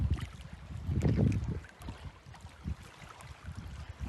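A small motorized model bait boat hums across choppy water, with lapping waves and gusts of wind buffeting the microphone.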